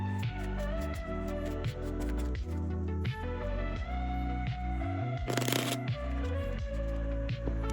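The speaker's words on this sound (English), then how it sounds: "Hand the deck to your spectator and let them shuffle it as much as they want." Cards being shuffled, rubbing and riffling under steady background music, with one brief, louder riffle burst near the end.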